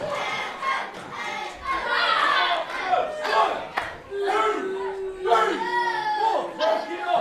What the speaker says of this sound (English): ended up starting up an Echo Reed chant